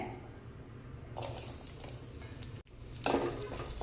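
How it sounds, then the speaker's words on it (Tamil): Small coconut pieces frying in ghee in a kadai give a soft, continuous sizzle, joined by a few louder bursts of hiss and light scraping near the end. "இது வந்து நெய்யில் சேர்த்து நல்லா செவக்க வறுத்துக்கலாங்க"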